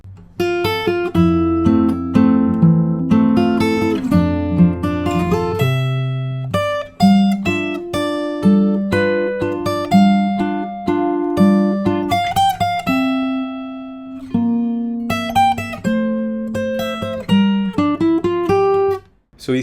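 Fingerstyle acoustic guitar plays the second part of a theme from Up, a steady picked melody over bass notes and chords, continuous and close for about twenty seconds with no talking.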